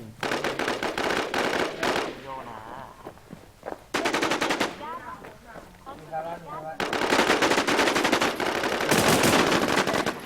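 Automatic gunfire in a shooting video game, long rapid bursts of loud close shots separated by brief pauses, with a voice talking in between the bursts.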